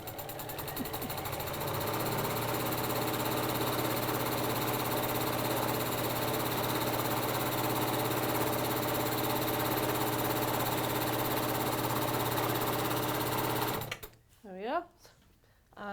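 Sewing machine running fast and steadily while chain-sewing quilt pieces, a continuous loud whirring drone lasting many seconds before stopping abruptly, followed by a brief spoken phrase.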